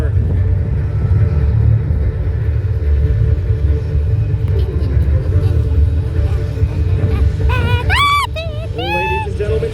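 An F-16 Viper jet takes off at the Sun 'n Fun 2025 air show with a loud, continuous deep roaring rumble. A voice is heard over it, and high whistling tones rise near the end.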